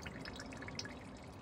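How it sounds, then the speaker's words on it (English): Fuel leaking from a faulty injector drips steadily under test pressure, with small, faint, scattered drops over a low steady background hiss. "You can see that this is still dripping"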